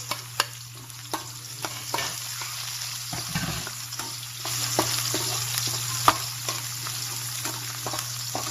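Onion frying with browned garlic in a pan for chicken adobo, a steady close sizzle with intermittent scraping and stirring clicks from a utensil.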